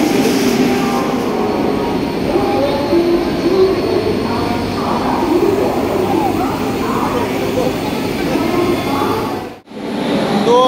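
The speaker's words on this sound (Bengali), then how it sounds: "তো আমাদের public train Vande Bharat express এখন হাওড়া স্টেশনে দাঁড়িয়ে আছে।" The Vande Bharat Express stands at Howrah station, a steady low rumble and hum of the idling train and platform with voices in the background and a brief dropout near the end.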